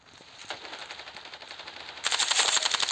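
Rapid automatic gunfire in the mobile shooter Standoff 2, a string of quick close shots that grows louder and denser in a final burst.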